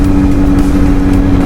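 A motorcycle rolling along on a Sunday morning ride at Vermosa, with a steady, close engine drone and road noise running continuously without pause or speech.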